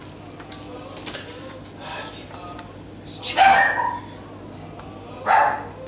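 A dog in a home kitchen gives a couple of short, moderately loud barks, spaced apart, with a person speaking around them.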